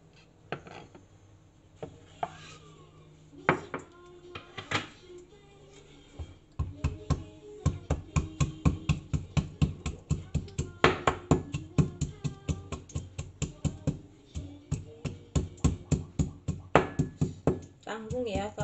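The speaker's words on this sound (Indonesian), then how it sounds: "Pertama aku mau giling bawang putihnya dulu" Garlic pounded with a small mortar and pestle, starting with scattered knocks and rubbing, then settling into a steady run of sharp, close, rhythmic thuds with faint voice underneath at the start.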